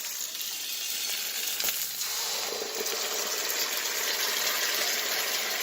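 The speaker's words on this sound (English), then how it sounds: "I'm going to add the sauce" Sweet and sour sauce hits a hot pan of oil for sweet and sour chicken, giving a loud, continuous sizzle that holds steady and close throughout with no voices.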